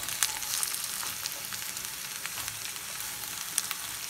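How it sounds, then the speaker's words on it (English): Sliced cabbage and mixed vegetables stir-fry in a pan, giving a steady close sizzle and crackle with a few sharper pops and faint scrapes of stirring. "sliced cabbage. And I will give a good stir."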